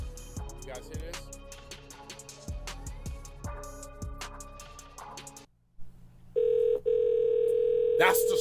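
A telephone handset is picked up and a loud, steady dial tone sounds close by for the last couple of seconds, after a short silence that follows plucked music with voices.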